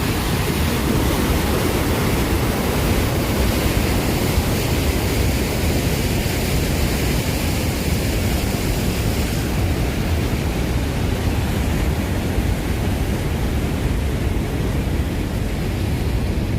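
The flooded Brantas River in Jombang rushes over a rubber dam in a steady, loud, unbroken roar of churning water that fills the whole stretch without any voices.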